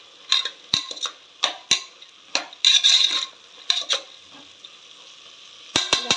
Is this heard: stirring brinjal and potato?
yes